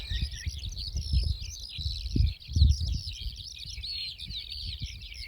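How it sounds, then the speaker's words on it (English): Birds chirp and twitter continuously in the background, high and busy, while low rumbling noise and faint movement sit underneath. "I don't know if you can hear the birds chirping."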